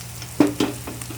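Pork and shiitake mushrooms fry in a pan with garlic and chili, a soft sizzle broken by two quick stirring clatters close by.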